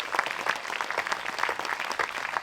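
A live audience at a Frisian stage show gives a burst of dense clapping, fairly close and sustained at an even level for the whole moment.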